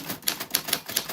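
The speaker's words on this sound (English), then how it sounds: "Your name fell on the typewriter bell." A typewriter clacks in a quick, even run of sharp keystrokes, close and fairly loud, with no voices.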